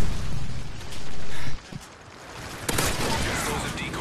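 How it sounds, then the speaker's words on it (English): Predator missile explosion in Modern Warfare 3, a loud booming blast followed by sharp bursts and crackling gunfire-like pops amid game noise. "Friendly Predator missile inbound."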